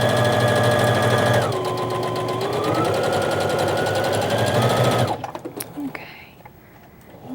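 A sewing machine stitches through fabric with a fast, loud, continuous mechanical whir that shifts pitch as the speed changes, then stops suddenly, leaving a few quiet clicks and handling sounds.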